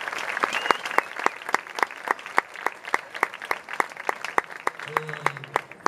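Concert audience at a benefit evening applauding a pianist, crisp claps falling into a near-rhythmic beat, steady and fairly close, with a brief voice near the end.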